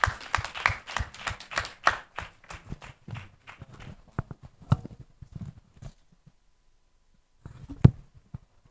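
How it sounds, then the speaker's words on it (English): Scattered clapping at an investors roundtable, a few pairs of hands clapping briskly at first, then thinning into sparse, isolated claps with quiet gaps and a last lone clap near the end. "Please a round of applause for him."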